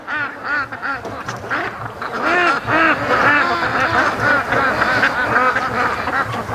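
Free-range ducks quacking loudly on a lake as an aluminum boat chases them, a dense, continuous chorus of overlapping nasal quacks from several birds, close and busy throughout.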